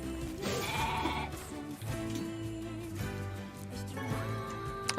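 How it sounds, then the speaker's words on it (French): Sheep in the video game Nier Replicant bleat a few times over a layered game soundtrack, the calls moderately loud and set against continuous background music. "Ah non, c'est un mouton, ça aussi."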